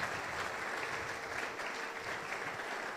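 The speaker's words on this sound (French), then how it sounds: "Acclame le Seigneur pour Matondo." Congregation applauding during a church thanksgiving service, steady dense clapping throughout with no pauses, fairly close and even in level.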